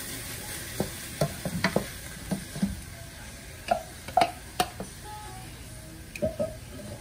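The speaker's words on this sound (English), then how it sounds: "now we're gonna add the tomatoes in there. Move that around." Tomatoes being stirred in a hot pan for bistec con papas, with scattered scraping and clicking stir strokes over a steady low sizzle of frying, close and moderately loud, no talking.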